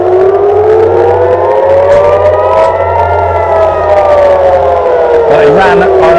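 A loud siren wails continuously at close range during a live missile attack on Tel Aviv, its pitch slowly rising and falling while a low engine-like hum runs beneath it.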